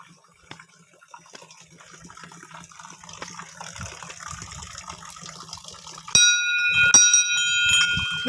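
Water pours from a cow-mouth gaumukh spout at Angiyari Mahadev temple, a soft gushing splash that grows gradually louder. Near the end a temple bell rings out twice over it.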